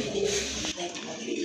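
A pair of pigeons cooing close by in a short burst of low, throaty notes, with faint background noise and a brief break midway.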